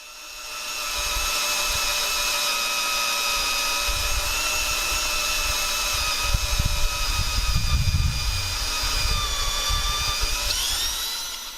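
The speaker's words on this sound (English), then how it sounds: "this here is a real-time cut of 1/2 inch thick plate with this annular cutter" A loud, steady high-pitched whine of an annular cutter grinding through half-inch-thick metal plate, with rumbling low machine noise building midway and easing off at the end.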